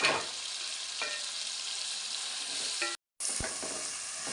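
Green chillies and cut tomatoes fry in hot oil in a pan, giving a steady loud sizzle throughout with occasional stirring clinks and a brief dropout near the end, no voices.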